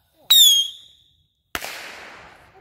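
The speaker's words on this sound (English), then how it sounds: "The fireworks are going everywhere." Two sharp bangs about a second apart: the first with a brief whistling crackle, the second a loud burst trailing off into sizzling crackle, close by.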